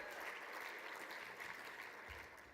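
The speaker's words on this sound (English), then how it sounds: "Every time I say cure, we need an applause." Audience applause during a plenary session on arthritis, heard as a faint, distant, continuous patter of many hands clapping with a brief low thump near the end.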